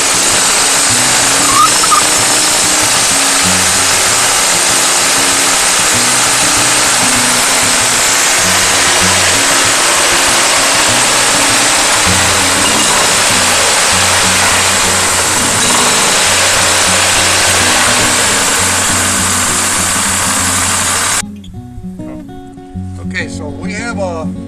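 Grizzly 30 portable sawmill running, a loud steady engine drone with a broad rushing noise throughout that cuts off near the end, leaving quieter clattering.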